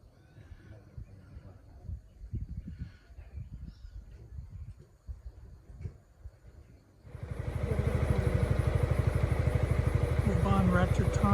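A motorcycle riding through a national park near Ubon Ratchathani, Thailand, its engine starting loud and close after a quieter stretch of ambient sound, then a steady throbbing pulse continues to the end.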